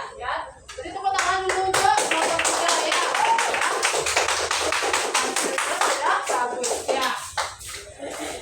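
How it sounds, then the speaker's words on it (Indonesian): A classroom of children claps for a student group after a presentation on plant parts, a burst of close, uneven hand claps lasting several seconds with some taps and faint voices mixed in. "Jadi tepuk tangan dulu untuk kelompok 3 ya."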